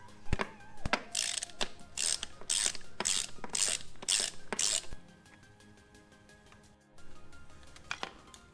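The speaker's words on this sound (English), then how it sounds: "Now we're going to loosen up this bolt down here with a" Ratchet wrench loosening a 21mm bolt on the steering rack of a 1990-1995 Mazda Miata: a close, loud run of about seven rapid clicking bursts, then a quiet pause and a few faint taps.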